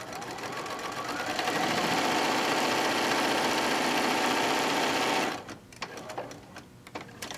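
A sewing machine runs a steady, fast stitch along a quarter-inch quilt seam for about five seconds, then stops. Light handling clicks and rustles of fabric follow. The machine is close and fairly loud.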